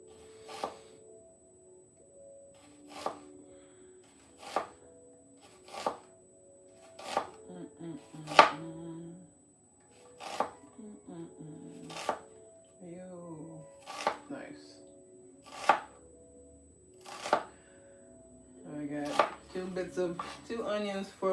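A knife slicing onions thinly on a cutting board, with about a dozen sharp, evenly spaced chops at close range and a quicker flurry of cuts at the end. Each chop stands alone against a quiet background.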